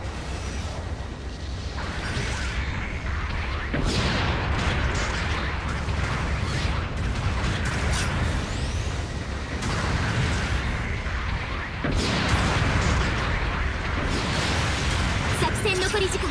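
A support artillery barrage hammers the battlefield in the Gundam Battle Operation 2 mecha game, played as the RGM-79[G] GM Ground Type. It is a loud, dense, continuous roar of booming blasts, with fresh surges around the quarter and three-quarter marks.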